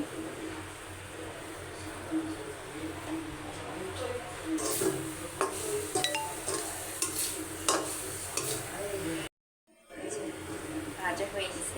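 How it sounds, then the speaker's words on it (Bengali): Grated coconut frying lightly in a pan, a continuous soft sizzle with scraping stirs. Birds coo in the background, and there is a brief cut to silence near the end. "নারকেলটা হালকা করে আমি একটু হালকা ভেজে নিব"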